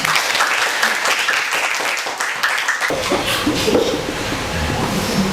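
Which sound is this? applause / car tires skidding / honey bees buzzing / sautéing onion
applause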